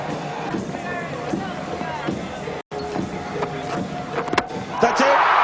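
Crowd at a West Indies versus India Test match in Barbados in 1997, a steady roar and hubbub with claps and bangs, swelling louder at the end while a commentator talks over it.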